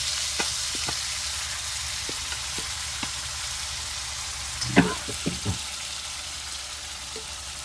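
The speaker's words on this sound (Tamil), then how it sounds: "ஸோ இப்போ அரைச்ச விழுதை எண்ணெய் விட்டு நல்லா ஈரம் போக வதக்கிட்டுருக்கேன்" Ground masala paste sautéing in oil for cauliflower rice, a low steady sizzle with sparse scrapes and taps of a spoon, a small cluster of knocks midway, close and free of talk.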